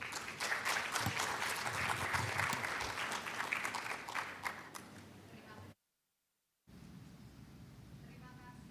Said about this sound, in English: Can we have another round of applause for my amazing speakers?